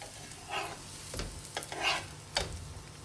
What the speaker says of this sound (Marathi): हळूहळू कढईला घेऊन कढईच्या ज्या कडा असतात टिक्कीच्या त्याही भाजल्या गेल्या पाहिजे